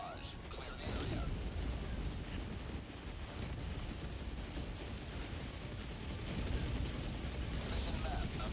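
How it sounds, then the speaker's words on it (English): Orbital barrage explosions pound down in a video game, a dense, continuous roar of rumbling blasts and crackling impacts that stays loud and steady from start to finish. "Firing orbital barrage. Clear the area."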